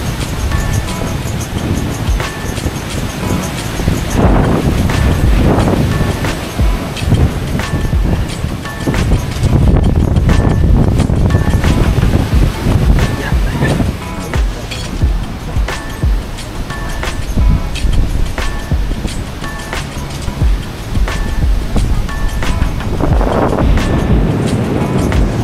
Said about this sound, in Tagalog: Oh, grabe hangin, oh.